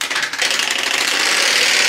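A strip cut from a plastic milk bottle flapping against the spokes of a turning bicycle wheel, a loud rapid buzzing rattle that speeds up into a steady continuous drone, close by with no talk.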